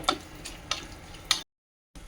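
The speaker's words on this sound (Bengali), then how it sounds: "আমি শুধু কাজু বাদাম কিশমিশটা দিচ্ছি, এটা ভেজে নেব" Cashews and raisins frying in a pan, quiet oil sizzle with a few sharp ticks and clinks as they are stirred, briefly dropping to silence near the end.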